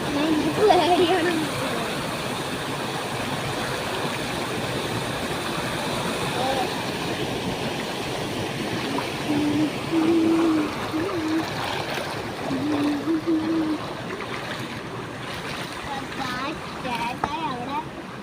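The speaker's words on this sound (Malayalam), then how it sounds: "ഇതൊരു വെള്ളച്ചാട്ടമാണ്." A waterfall pours with a steady, loud broadband rush of water that fills the whole clip, with faint voices briefly audible beneath it.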